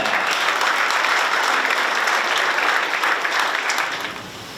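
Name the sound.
audience applause opening Doosan Bears anniversary ceremony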